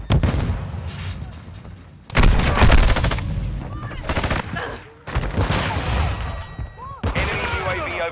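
Heavy gunfire in Call of Duty: Modern Warfare II, with repeated loud bursts and rapid automatic volleys in several waves and sharp impacts between them, over a dense battle din.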